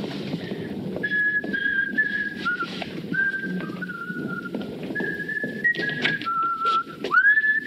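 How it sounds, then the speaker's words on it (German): A person whistles a melodic tune in clear sustained notes with gentle slides, over a low background rumble. "Du sollst doch nicht pfeifen."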